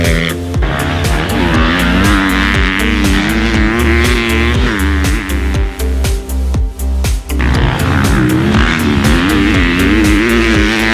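A 2022 Husqvarna FC250 Rockstar Edition dirt bike ridden at Glen Helen, its engine loud and close, revving and surging continuously with brief dips between throttle bursts.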